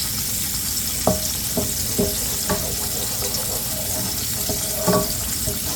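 Wooden spoon stirring gravy in a pan for liver and onions, a steady bubbling background broken by a handful of soft scraping knocks spaced irregularly, close and moderately loud with no talking.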